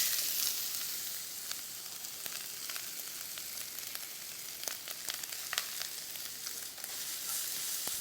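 Cooking oil sizzles and spits in a frying pan before frozen fried rice goes in, a steady quiet hiss with scattered sharp crackles, heard close and alone.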